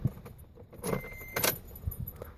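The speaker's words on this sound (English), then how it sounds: "Put the keys in." Keys jangling as they slide into the ignition of a 2005-2011 Toyota Tacoma, a close metallic rattle with a couple of brighter clinks and no talking.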